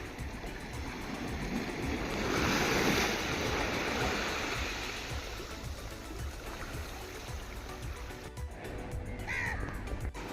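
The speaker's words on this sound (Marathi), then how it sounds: "बीच साइड खूप मस्त वाटतंय" Ocean waves wash steadily onto a beach in the morning, a continuous broad rush that swells around the third second. Crows caw intermittently over the surf.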